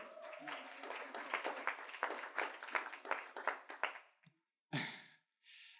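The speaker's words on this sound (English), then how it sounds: "So give Tito a big round of applause, please." A crowd claps for about four seconds in a dense burst of applause, then it stops, leaving a couple of short breathy noises.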